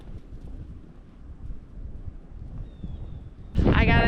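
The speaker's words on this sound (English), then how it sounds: "It's cold, it's windy today" Wind blows outdoors at a nature preserve on a cold winter day, a low rumbling buffet against the microphone throughout, ending in a sudden louder, brighter burst.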